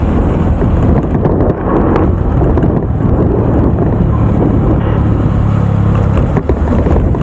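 Continuous wind roar and rumbling engine noise from a motorcycle riding over a rough, potholed road, loud and close throughout with occasional bumps.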